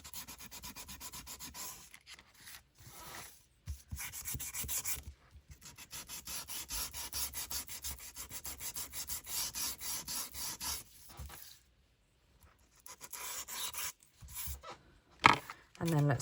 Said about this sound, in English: Sand along the top.